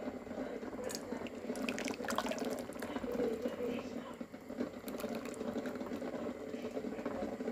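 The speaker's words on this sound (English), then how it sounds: "I'm going to pour the mixture into a mixing bowl" A thick cooked marshmallow mixture pours and splashes into a mixing bowl, with clinks and scraping sounds mixed in over a low background hum.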